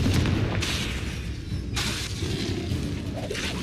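Confringo blasting-spell explosions in the Hogwarts Legacy video game: several sharp bursting crashes with shattering, rushing noise, spaced across the clip, loud and close with no speech.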